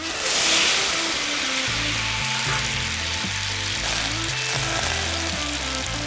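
Al dente pasta is tossed in a pan with a buttery sauce, giving a loud, continuous sizzle with rhythmic low scraping and clattering as it is stirred. The sound is up close, with no talking.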